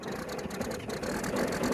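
A tractor engine running in a farmyard after a winter windstorm, its low, steady idle rumble faint and distant under gusty background noise.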